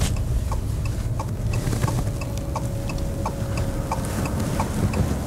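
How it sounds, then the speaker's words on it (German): A Fiat 500e electric car's turn signal ticks at a steady regular pace inside the cabin, soft clicks over a continuous low road and cabin hum. "auch das Blinkergeräusch ist angenehm"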